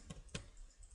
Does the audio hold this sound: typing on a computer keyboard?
yes